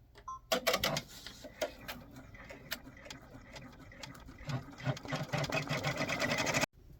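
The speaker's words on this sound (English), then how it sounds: "So I'm going to stick this back in the machine, my 6-needle, rather 6-needle embroidery machine." A 6-needle embroidery machine sews set stitches around a number 3 on a baseball-themed birthday shirt, giving a fast, steady mechanical rattle of stitching that runs loud and close for several seconds, then cuts off abruptly near the end.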